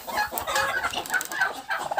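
Brooding turkey hens in a shed giving soft, repeated clucks and murmurs, close and continuous with no talk over them.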